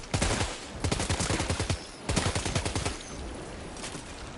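Video game gunfire sounds in two long rapid bursts of automatic shots, loud and close, followed by a steadier fading rattle.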